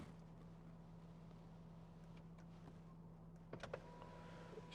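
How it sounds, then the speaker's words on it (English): Quiet electric motors whir in a 2017 Land Rover Discovery HSE as the memory setting moves the seat, mirrors and steering wheel back into position, with a soft steady hum and a few brief motor bursts near the end. "steering wheel changes, mirrors change, seats change, and you're back in the exact position that you wanted"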